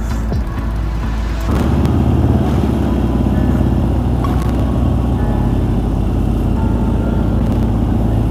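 Motorcycles ride slowly in a group during a motorcycle event, a steady loud rumble of engines that swells slightly after the first second and holds evenly, close and continuous with no talk.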